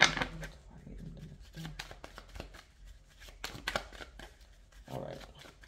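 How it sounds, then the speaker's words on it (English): A deck of tarot cards shuffled by hand: repeated soft riffling and flicking bursts with papery slaps, irregular in rhythm, close and fairly quiet, with no speech over it. "Let me just shuffle this deck real quick"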